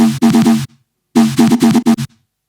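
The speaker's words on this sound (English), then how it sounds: "So a lot of clicks, unwanted little artifacts." A deep UKG dubstep-style synth bass made in Serum, with its gain automation removed, plays two loud, choppy phrases of short stabbed notes that start and stop abruptly, with small clicky edges between the notes.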